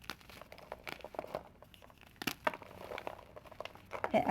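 A block of Rage gym chalk is crunched and crumbled by hand, giving a run of close, dry crackling crunches with brief louder bursts.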